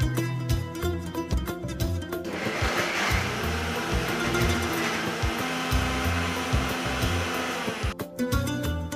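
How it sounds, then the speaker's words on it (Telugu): A kitchen grinder runs steadily, loud and continuous, as fried tender meat pieces with spices are ground fine for Hyderabadi kofta, stopping briefly near the end before starting again. "వేయించిన లేత మాంసం ముక్కలకి ప్రైమరీ రుచికారకాలు వేసి కోఫ్తాల కోసం మెత్తగా గ్రైండ్"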